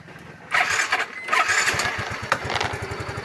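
A Yamaha MiO scooter engine fires up after a quiet moment and settles into a steady, close, loud putter, with a few revs rising over the idle.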